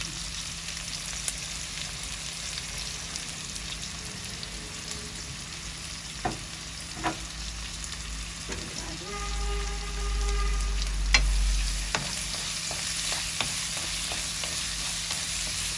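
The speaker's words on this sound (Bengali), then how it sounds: "রসুন, পেঁয়াজ, রসুন না? আর চিংড়ি মাছ একসাথে ভাজিয়ে দিবি।" Garlic, onion and shrimp frying together in a pan give a continuous hissing sizzle with occasional stirring clicks and scrapes, plus a brief low hum midway, close and steady, with no talking.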